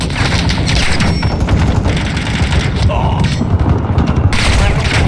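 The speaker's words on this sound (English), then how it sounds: "Bomb and run inbound." Dense, loud battlefield chaos in Call of Duty MWII during an airstrike bombing run: continuous rumbling explosions and rapid gunfire bursts that pile up without pause, with voices shouting underneath.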